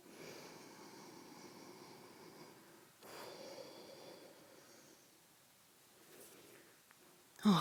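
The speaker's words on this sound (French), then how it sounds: "Inspirez profondément." Slow, deep breathing during a morning yoga session for the back: faint, soft breaths in and out, with a clearer inhalation about midway and a sharper sniff at the very end.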